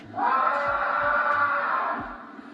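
A baseball player screams in agony after a season-ending game, one long sustained wailing cry lasting over two seconds, loud and close, with a slight echo.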